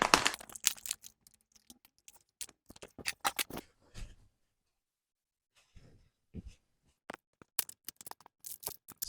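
Plastic packaging around racks of baby back ribs is cut open with sharp crinkly snips and rustles in quick bursts, with a quiet pause midway before the crackling handling resumes.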